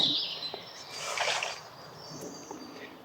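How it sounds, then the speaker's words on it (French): Faint bird chirps and calls drift through a quiet forest, with soft, scattered tweets rising and fading. "Beaucoup d'oiseaux ici."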